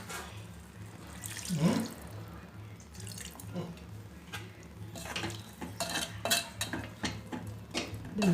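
Water pours into a pot for boiling lentils in a home kitchen, with splashing and clinking of pots and utensils and a voice speaking briefly.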